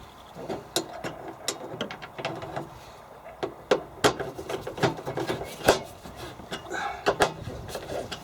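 Screws are driven in to mount batteries in a DIY electric vehicle conversion, giving a close, irregular run of sharp clicks, ratcheting ticks and light knocks over several seconds.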